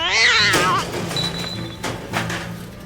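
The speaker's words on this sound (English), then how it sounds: "Just a cat. A cat, that's all." A cat meows once loudly and close, a wavering drawn-out cry at the start, followed by soft thumps and scuffs in a quiet city street scene of a radio drama.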